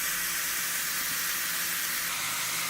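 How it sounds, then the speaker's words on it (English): Pot roast meat frying in a pan without a Dutch oven, a loud steady sizzling hiss that holds evenly for the whole stretch with no voices. "we're frying it up in this pan"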